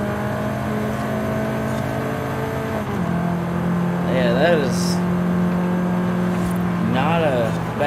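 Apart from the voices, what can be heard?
Chevrolet Camaro V8 engine roaring in a racing video game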